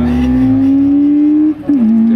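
A turbocharged Honda Civic and an Opel Astra coupe race away in a loud, close engine roar. The pitch climbs steadily, breaks briefly near the end as a gear changes, then settles into a steady drone.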